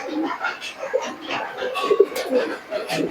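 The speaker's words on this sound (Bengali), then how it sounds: "এ হচ্ছে মাদিন কবুতর" Soft, low coos from a female Lotan pigeon come in short bursts close by, mixed with people talking nearby.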